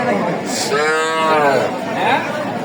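At a busy cattle market at Aftabganj haat in Nawabganj, Dinajpur, a nearby cow gives one long, loud moo over steady crowd chatter and background noise.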